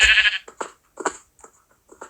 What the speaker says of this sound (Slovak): To čo tu robí koza hore?